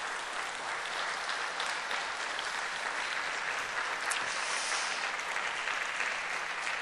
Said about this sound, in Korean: 박수로 우리 감사 표하겠습니다.